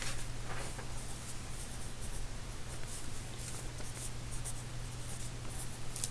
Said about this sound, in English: So I'm going to sketch one here,